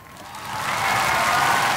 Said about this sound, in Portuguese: Esses aplausos não soaram nada bem.